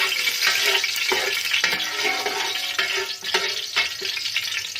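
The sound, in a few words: masala added to hot oil in a pot, sizzling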